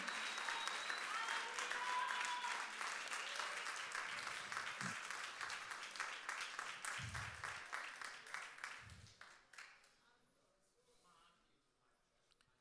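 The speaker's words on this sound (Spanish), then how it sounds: "mientras usted aplaude" A church congregation applauds for a long stretch, a dense wash of many hands that thins out, with a few thumps underneath, and dwindles to scattered claps and near quiet by the end.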